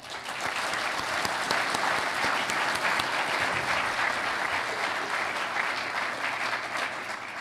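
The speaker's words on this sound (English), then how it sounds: "I'm going to ask you to give our distinguished panel a round of applause right up front." Applause fills a hall as an audience claps for a distinguished panel at a constitutional law showcase, a continuous, dense wash of many hands, steady and sustained.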